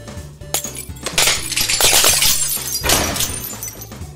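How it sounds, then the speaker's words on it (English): A glass bottle shatters loudly in the Milkman video game, a crisp break followed by a dense spray of tinkling shards that rings on for several seconds. "So I moved the whole audio source to the broken glass bottle object and set it to play on awake instead."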